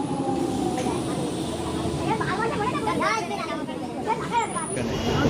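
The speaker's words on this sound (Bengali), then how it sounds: "আর এই যে ট্রেন ঢুকে গেছে এখন।" A train pulls into a station platform on the Shyamnagar to Tarapith route, a steady rolling rumble with squealing wheel and brake tones rising over it while nearby voices talk over the scene.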